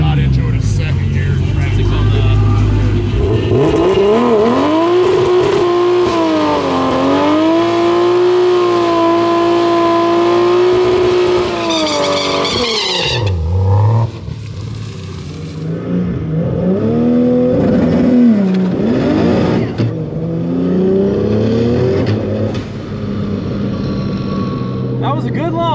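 A Barra-powered Ford GT350 roars loud and close on a drag strip launch, its engine revving hard through rising gear pulls, breaking briefly around the shift, then surging on with a steady droning howl, with voices over it.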